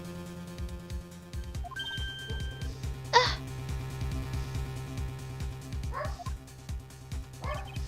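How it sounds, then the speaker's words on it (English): Dog barks from the Ace Attorney courtroom video game come in a rapid series of yips over looping game music and chimes, loud and close throughout. "Bark, bark, bark."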